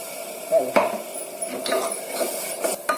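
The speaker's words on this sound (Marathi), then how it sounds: "आता हे छान परतून घ्यायचं" Ground spices including red chili powder, kitchen king masala, goda masala and turmeric being sautéed in a pan for Maharashtrian pavta bhaji, with a steady soft sizzle and scattered utensil scrapes and clinks close by.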